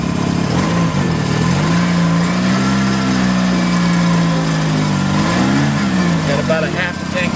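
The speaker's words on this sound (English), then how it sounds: "so now it's running on the little bit of gasoline that's in it." A car engine running on a small amount of gasoline after straight methanol, a steady loud idle with a low hum that rises and dips in brief revs, with a voice talking over it.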